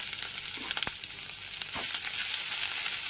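Ginger paste frying in hot spiced oil for a potato and pointed gourd korma, a close, steady bright sizzle with a few scrapes and clinks of stirring, no voices.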